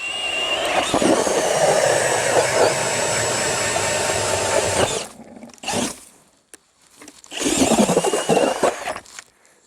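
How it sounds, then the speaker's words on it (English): A cordless drill fitted with a Clam ice auger conversion kit bores through thin ice, slush and about eight inches of ice: a steady, loud whirring grind for five seconds, then a pause broken by short bursts and one more sustained run. "If you guys are looking into using your drill to make your holes"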